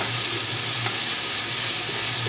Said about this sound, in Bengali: কষিয়ে নিব কাঁচা গন্ধটা যেন চলে যায় পেঁয়াজ রসুনের